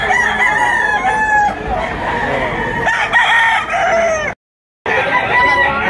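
A rooster, a bull stag offered at a cockfighting-bird auction in Lipa, Batangas, crows loudly and close with a harsh, drawn-out call, followed by further clucking and crowing calls and a brief dropout near the end.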